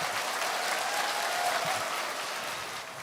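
Audience applause in a lecture hall, steady dense clapping from a crowd that holds even for a few seconds before easing slightly.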